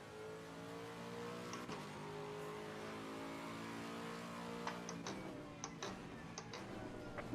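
A race car engine in Assetto Corsa Competizione whines steadily at high revs during an endurance race at Bathurst, shifting pitch as it accelerates, with faint ticking clicks scattered through the later part.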